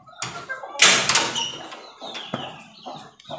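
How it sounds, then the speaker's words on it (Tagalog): A door on a chicken coop is pulled open with a clattering scrape and a loud bang, followed by a few softer knocks and rattles close by. "Lagyan mo na natin dito at buksan natin yung pinto"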